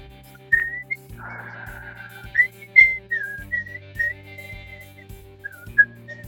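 A woman whistling the melody of a song, a close, clear run of sustained and sliding notes over a steady low background hum.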